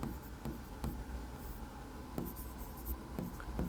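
Chalk or marker writing on a board during a Class 10 maths lesson on linear equations, with soft scratchy strokes and taps in an irregular rhythm, faint and close.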